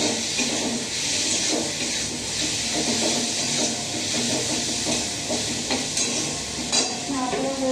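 Masala with chili stirred in a frying pan, a continuous loud sizzle and hiss with scraping stir strokes throughout, close by and without talk.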